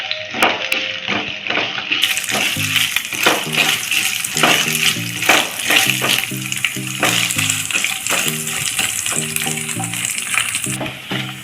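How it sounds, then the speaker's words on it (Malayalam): Curry leaves and coconut pieces fry in hot oil for a Kerala-style beef fry, giving a continuous crackling sizzle with rhythmic clinks of a spoon stirring against the pan. "നമുക്ക് കറിവേപ്പില നന്നായിട്ട് ക്രിസ്പായിട്ട് ഫ്രൈ ചെയ്തെടുക്കണം കേട്ടോ."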